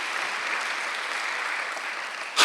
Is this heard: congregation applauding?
yes